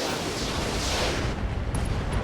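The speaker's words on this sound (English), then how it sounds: "We're going to fire just the MRM out at this Avatar." Medium-range missiles launched at a mech in the video game RogueTech, a dense roaring whoosh of rocket fire and explosions, loud and sustained, with small bright pings near the end.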